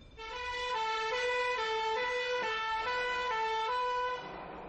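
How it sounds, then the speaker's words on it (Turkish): A fire engine siren wails loud and close, its pitch stepping up and down in a steady alternating pattern before cutting off. "Alarm çalıştırıldı ve itfaiye yola çıktı."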